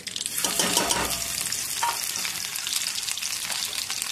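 Mustard seeds, cumin and garlic hit hot oil for a fenugreek stir-fry, a loud close crackling sizzle with sharp seed pops and spoon scrapes that continues steadily with no talking.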